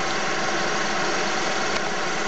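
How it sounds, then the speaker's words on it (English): A Harris micro hydro turbine with four nozzles runs steadily inside its housing, giving a loud, constant mechanical whir and rush that fills the whole stretch without pause or talk. "Right there is the turbine housing, which you can probably hear in the background."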